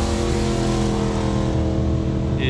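Motorbike engines drone loud and steady while riding the Cherohala Skyway, a continuous close hum of four bikes travelling together with no talk.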